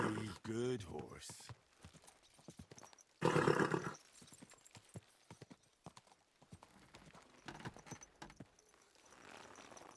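Rhythmic hoofbeats clip-clop steadily, with a loud horse whinny early on; a voice speaks briefly under the clatter, in the video game Kingdom Come: Deliverance II.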